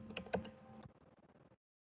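Fingers type a C printf statement on a computer keyboard: a quick cluster of sharp, close key clicks, then a run of softer, lighter taps that stops abruptly into silence.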